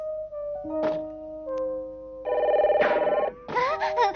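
A cartoon telephone rings with electronic bell tones, one sustained trill and then a second burst, mixed with short thunks and brief cartoon voices.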